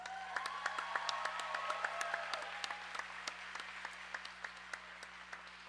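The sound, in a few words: crowd applauding volunteers at roller derby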